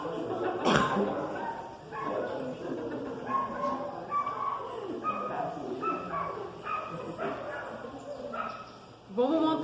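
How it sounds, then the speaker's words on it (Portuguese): Several dogs bark, yip and whimper in a restless, irregular run at moderate distance, mixed with a person's talk through much of the stretch. "esses cachorros cantando"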